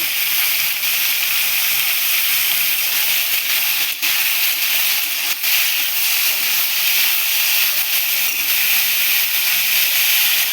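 Carrot pieces fry with a pinch of salt in a hot pan, making a loud, steady hissing sizzle that holds evenly throughout with a few faint ticks and pops.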